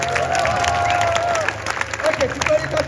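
An outdoor crowd at a street artists' festival in Vevey, Switzerland applauds Roberto, with brief clapping and cheering mixed with voices, a steady wash first that breaks into sparser bursts.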